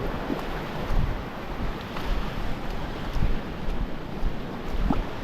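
Steady outdoor wind on open water by a boat, a broad continuous rush with gentle gusts swelling every couple of seconds, fairly close, no speech.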